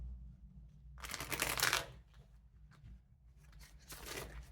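A deck of tarot cards is shuffled in a short, dense burst of riffling, then a quieter pause and a second, softer shuffling flurry near the end, all close to the listener over a low steady hum.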